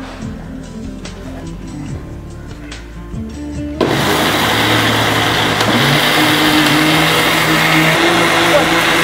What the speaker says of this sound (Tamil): நல்லா உளுந்து அரைக்கணும்